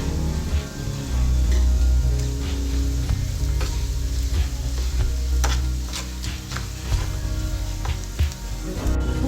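Sliced onions with chilli powder, salt, coriander and cumin powder sizzle in a pan for a green chilli curry. A continuous close frying hiss runs under low rumbling background sound.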